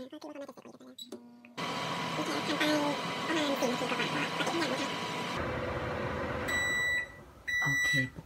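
A microwave oven hums steadily for several seconds while boiling eggs in water, then cuts off and gives a series of short electronic beeps. Someone speaks briefly before the hum starts.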